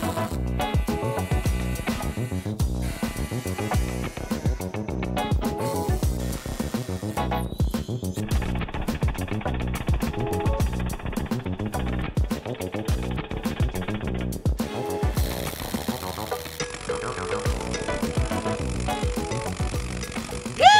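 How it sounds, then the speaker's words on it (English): A power drill with an 8mm bit whines and grinds steadily for a long stretch, boring upward through a wall, its tone shifting through the material, close and continuous with no talking. "we'll be drilling the hole in an upwards direction here"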